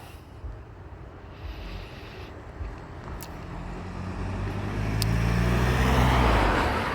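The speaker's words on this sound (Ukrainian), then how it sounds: "Чекаю на зупинці Арішу." Road traffic rumbling past a bus stop, a steady low roar that swells as a larger vehicle approaches and passes close by toward the end, with no one speaking.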